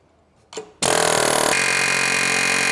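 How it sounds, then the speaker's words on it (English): A brief low thump, then a loud, continuous rattling roar of a pneumatic air hammer pushing out the drive shaft of a V12 BMW 850i, hammering steadily up close, with a slight shift in tone midway. "let's see if we can push out the drive shaft using an air hammer"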